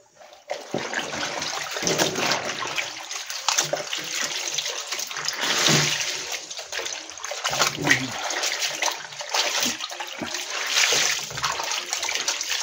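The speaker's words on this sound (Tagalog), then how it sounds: "banlawan muna natin." Soaked white clothes are rinsed by hand in water: steady splashing and sloshing, near and fairly loud, with brief pauses between handfuls.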